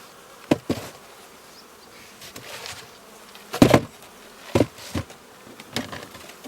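Honeybees buzzing around a hive frame during an end-of-season honey harvest, with bursts of close, loud buzzing as bees fly up past the frame.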